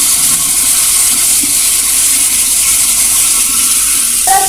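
Chana kaliya sautéing in a pan, a steady loud sizzle and hiss of frying that runs continuously with no talk.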